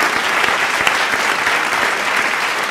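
Applause from a business seminar audience, a dense, steady wash of many hands clapping at once that holds at an even, fairly loud level throughout.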